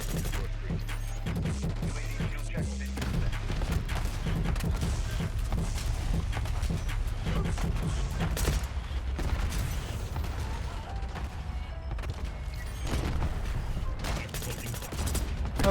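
Rapid gunfire and explosions from a Call of Duty Black Ops 6 multiplayer match, a sniper among the shooters, with dense bursts of shots and booms running throughout at steady loudness.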